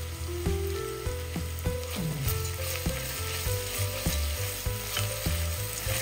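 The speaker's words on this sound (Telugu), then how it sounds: "ఇవన్నీ కొంచెం ఫ్రై అవ్వాలండి. దీంట్లో నేను కొంచెం క్యాషు కూడా యాడ్ చేస్తున్నానండి." Vegetables and cashews fry and get stirred in a Dutch oven for vegetable dum biryani, a steady close sizzle broken by repeated clanks and scrapes of a spoon against the pot.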